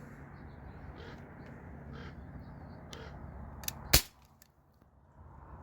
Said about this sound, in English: I'm going to start firing